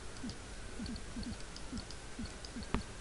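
A seagull in the video game Monkey Island gives repeated short calls at an even pace, moderately near, over a steady low background hum, with a sharper click near the end.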